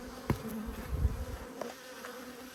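Honey bees buzzing close by during an apiary hive inspection, a steady droning hum with a few brief, louder passes as individual bees fly near.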